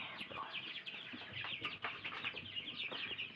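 Chickens settling in a coop at night, with continuous soft clucking and murmuring from many birds close by, steady and busy throughout.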